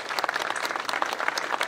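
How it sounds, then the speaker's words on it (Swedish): Audience at an award presentation at the Elmia trade fair claps steadily for the whole short stretch, a close, even burst of many hands. "Ge dem en applåd!"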